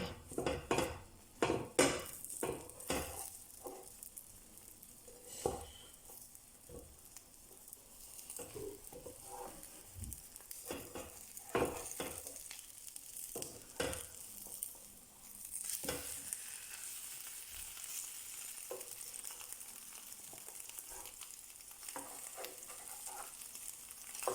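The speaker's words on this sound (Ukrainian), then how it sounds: "З іншої сторони жаримо до готовності." Cauliflower steaks frying in a pan after being flipped, with a steady soft sizzle under scattered clinks and scrapes of a utensil against the pan, fairly quiet and close.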